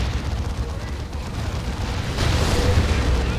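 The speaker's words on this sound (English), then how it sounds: "Oh, an orbital comes in from AngryMetalGuy." An orbital bombardment in the video game Warhammer 40,000: Dawn of War 2 lands in a 3v3 match, a deep rumbling blast swelling into a loud roar amid ongoing battle noise.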